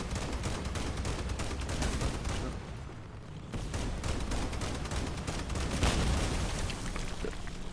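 Cannons boom in the Crossout vehicle combat game, dense rapid blasts and crackling bursts rolling almost nonstop, with a brief lull midway before the firing picks up again.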